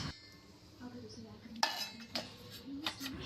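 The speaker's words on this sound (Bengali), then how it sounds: "নামিয়ে নিলাম প্লেট। এইবার বার করব কড়াই" Cooking pots, plates, a wok-style kadai and a spatula are taken out in a home kitchen. A few soft, faint clinks and clatters of metal utensils sound against the quiet room.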